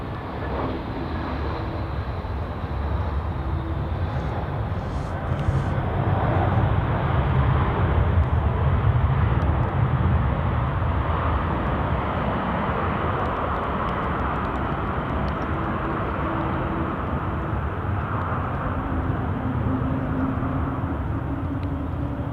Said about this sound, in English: And here we go, takeoff for the Turkish Airlines freighter.